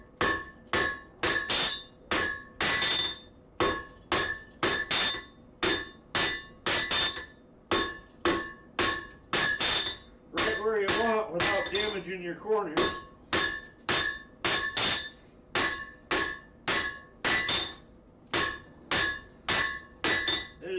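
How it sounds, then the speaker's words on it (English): Repeated hammer blows ring out on a steel bar being forged into a blade, struck in steady rhythmic bursts of sharp metallic clangs; a short stretch of talk breaks in midway before the hammering resumes. "by just using just the hammer, coming in and hitting"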